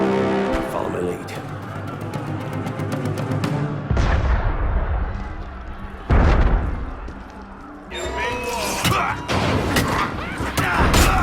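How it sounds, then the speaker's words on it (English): Heavy booming blasts in Assassin's Creed Unity, with loud cannon-like hits rising above rumbling, busy background noise, while voices shout and talk across the scene. "That was cannon fire."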